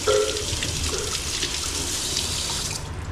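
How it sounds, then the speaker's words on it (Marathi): Food being washed under running tap water, a steady, moderately quiet splashing stream that continues throughout without pause. "याचं धुवून घ्यायचं, साफ करून घ्यायचं"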